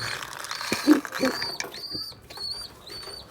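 Pigeons in a loft whose food has run out, giving soft short coos and chirps at close range under a low background.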